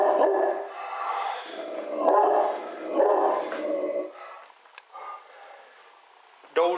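Several pet dogs bark and yip in bursts, fairly close and loud, with short pauses between volleys and a sharp bark at the end; someone speaks to them.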